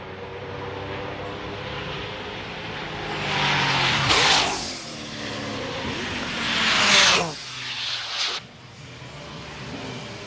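Race cars circle the 1994 Le Mans circuit at dusk, with Toyota leading. A continuous engine roar swells as two cars scream past close by in quick succession, then a third passes and fades.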